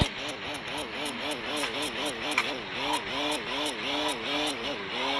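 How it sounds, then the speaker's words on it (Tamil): A BMW F10 engine runs at a new-car delivery, giving a steady moderate hum with gentle rises and falls and a faint rhythmic ticking over the top. "காடி சவுண்டு செம்மையாக இருக்கு"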